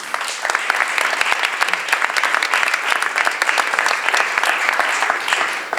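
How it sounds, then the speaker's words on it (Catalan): An audience at an art-circle awards event claps loudly and continuously, a dense, sustained round of applause with no pause. "Un fort aplaudiment per Ramon Casaler."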